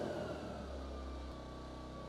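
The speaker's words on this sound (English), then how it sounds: "start the engine and allow it to run for 1 to 2 minutes in a well-ventilated area" A Polaris P2500iEBT portable inverter generator engine idling after an oil change, giving a steady, even hum with a low drone and faint tonal whine, close and constant throughout.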